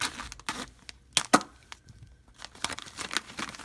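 A sealed plastic package containing new molds is torn open, with a run of sharp tearing and crinkling bursts, a couple of louder rips mid-way, then softer rustling close by, no talking.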